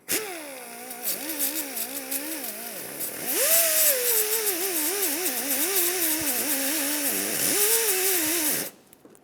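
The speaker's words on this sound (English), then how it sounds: "Using a wire brush or an abrasive disc, we're going to clean this little area of the paint." A power wire brush or abrasive disc scrubs paint off bare body metal on a 2007-2012 Nissan Altima, giving a loud, close, continuous whine that wavers up and down in pitch before cutting off near the end.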